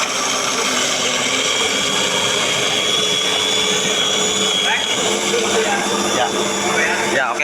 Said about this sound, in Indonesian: lalu kita masukkan ke dalam mesin blendernya untuk di blender